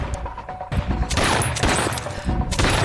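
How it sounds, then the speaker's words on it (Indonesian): A burst of rapid gunfire in a TV drama episode, loud and close, several shots fired in quick succession with brief pauses between volleys. "tiba-tiba Tim mendapatkan serangan tembakan"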